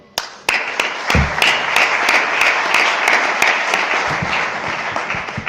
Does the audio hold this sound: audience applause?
yes